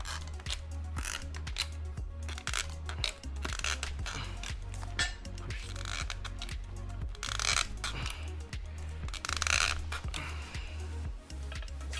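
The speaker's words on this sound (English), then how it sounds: "take the snap ring out now by putting the snap ring pliers in the hole" Snap ring pliers work a snap ring on a Vevor transmission jack during assembly, giving repeated small metallic clicks and snaps over a steady low hum, close and moderately loud with no talking.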